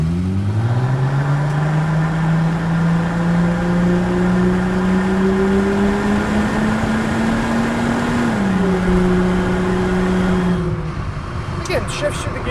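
A 1999 Plymouth Prowler engine revs steadily upward through a long pull in manual mode, dips briefly at a gear shift, then climbs again, heard loud from inside the car on a test drive.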